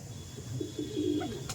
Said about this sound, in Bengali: দেখুন সবুজ পিয়ার দেখাচ্ছি